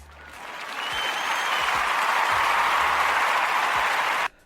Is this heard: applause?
yes